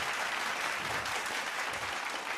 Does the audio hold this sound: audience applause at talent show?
yes